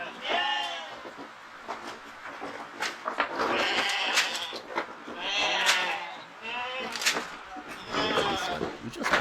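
Several sheep bleat repeatedly on a farm, close and loud, with overlapping wavering calls coming in irregular bursts across the whole stretch.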